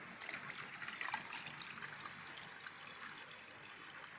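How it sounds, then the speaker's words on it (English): Water pours steadily into a tank for a water quality monitoring setup, making a continuous close splashing and trickling rush with no pauses. "Now, in as much as we pour much more water into the tank, let's see how it also reads"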